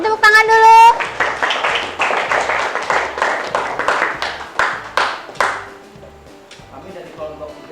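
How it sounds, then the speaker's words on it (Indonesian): A class of students applauds during a classroom presentation on coal formation, a burst of dense clapping that fades out after about five seconds, followed by quieter room sound. "Beri tepuk tangan dulu."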